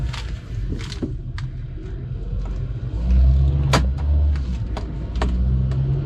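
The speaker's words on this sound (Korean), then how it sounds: "간단하게 시운전 하도록 하겠습니다" A 2018 Kia K3 Trendy with about 10,000 km on it, heard from inside on a short test drive: a steady engine and road rumble that swells as it accelerates, with a few light clicks and knocks in the cabin.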